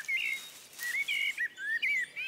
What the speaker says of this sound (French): je tombais dans un arbre à côté d'un merle incroyablement bavard